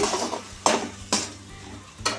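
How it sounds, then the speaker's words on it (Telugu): Spoon stirring and mixing a ground coconut, curry leaf, chili and asafoetida paste in a metal pan for coconut pulihora, with three sharp scraping clinks against the pan over a soft continuous sizzle. "ఈ పేస్ట్ అంతా ఇందులోకి వేసేసుకోవాలి ఇదంతా బాగా కలుపుకోవాలి"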